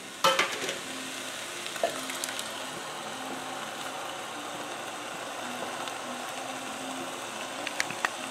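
Dei Fratelli crushed tomatoes being stirred into a pot of taco soup, a low steady simmer with a low hum beneath and a few sharp spoon knocks against the pot near the start and end.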